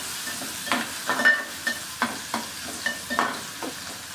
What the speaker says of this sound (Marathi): कांदा लाल होऊ द्यायचा आहे लाल होईपर्यंत भाजून घ्यायचा कांदा